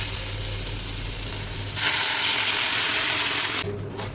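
Water poured into a pan of frying potato curry for a koi fish dish sets off a sudden loud steaming hiss that bursts up and then settles, replacing the lower sizzle.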